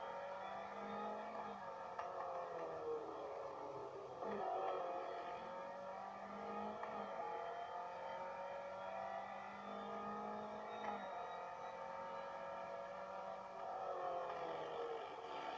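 Racing car engine from a racing video game played on an Acer Iconia Tab 10 tablet, a steady whining drone that rises and falls through gear changes, moderately quiet and continuous with no talk.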